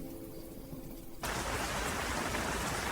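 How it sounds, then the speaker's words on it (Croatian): Rain begins abruptly after a quiet moment and becomes a dense, even hiss of falling drops that stays loud and constant to the end. "Kiša"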